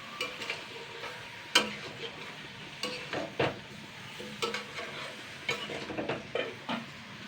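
Spinach and mixed vegetables are stir-fried without oil in a pan with Maggi masala. Repeated close scraping and tapping strokes of a spatula come at an uneven rhythm over a soft, steady sizzle.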